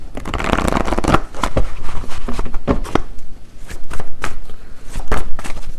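Tarot cards shuffled and drawn by hand, a steady series of crisp riffling and slapping bursts filling the stretch, close and fairly loud with no voices.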